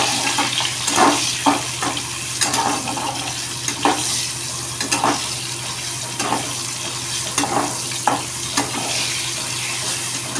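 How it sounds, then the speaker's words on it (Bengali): Pointed gourd (patol) pieces, salted and dusted with turmeric, sizzling as they fry in a pan, with a steady crackle and intermittent sharper stirring clatters close by. "পটলগুলো লালচে করে ভেজে নেব।"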